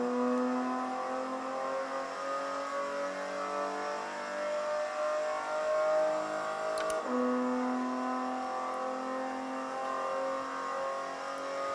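A race car at the Hockenheim circuit accelerates hard out of a corner, its engine note climbing steadily in pitch with a brief shift, loud and continuous without any talk.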